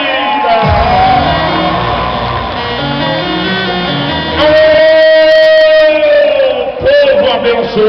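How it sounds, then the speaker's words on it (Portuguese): A large crowd at a rodeo arena opening during a gospel expo in Cuiabá roars loudly with whoops, shouts and cheering, sustained and dense, with strong sustained tonal voices or amplified sound rising over the noise midway. "uma salva de palmas ao dono de nossa vida"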